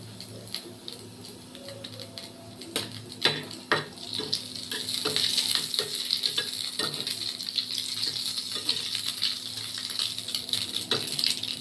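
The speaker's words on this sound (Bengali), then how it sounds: "আমি এখানে দুটো শুকনো লঙ্কা ভেজে নেব বেগুন সিদ্ধ মাখার জন্য।" Dried red chillies fry in a pan, a low crackle building into a steadier sizzle with scattered sharp taps and pops from stirring, close and continuous.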